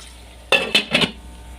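A spoon stirs a salted green chilli pickle mixture in a pan, giving three short scraping strokes close by over a quiet background, with no voices.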